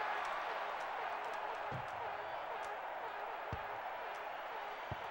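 In the Nintendo 64 soccer game FIFA Soccer 64, a dense stadium crowd roars steadily after a tackle, a continuous broad wash of cheering under occasional faint thumps from the game.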